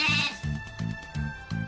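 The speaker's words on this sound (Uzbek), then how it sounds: "Qo'zichoq?" A lamb, given as a festive gift, bleats four times in a steady rhythm, close and clear, with short pauses between the calls.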